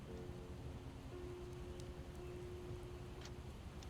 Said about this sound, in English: it's still raining though